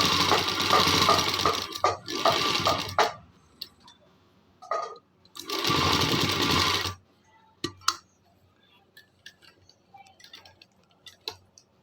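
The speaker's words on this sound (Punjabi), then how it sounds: "ਦੇ ਉੱਪਰ ਧਰ ਕੇ ਜਮਾ ਸੈੱਟ ਕਰਕੇ ਇਦਾਂ ਸਲਾਈ ਲਾਉਣੀ ਹੈ" Domestic sewing machine stitching a shoulder seam on a garment, running in two loud bursts of rapid whirring stitches with a pause between, followed by quiet handling clicks and taps of fabric and machine.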